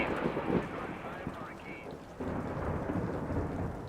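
Hurricane Ivan, a Category 5 storm, roars with a continuous dense rush of wind and heavy rain, loud and unbroken, with a brief lull before the roar surges back.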